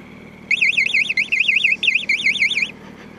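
A radar detector mounted in a car gives a rapid warbling electronic chirp, a high, loud tone that sweeps up and down for about two seconds with one brief gap, over a low road rumble.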